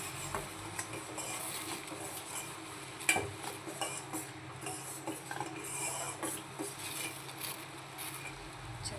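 A spoon stirs urad dal papad batter in a large pot, producing faint, irregular scraping and clinking against the metal with one sharper knock near the middle.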